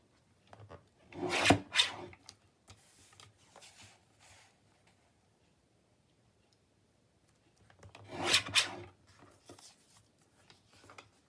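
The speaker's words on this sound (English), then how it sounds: "And I get my cutter out. And I start trimming up edges." A paper tag having its edges trimmed with a cutter, giving two close rasping, scraping bursts several seconds apart with faint small clicks between them, in an otherwise quiet room and without talk.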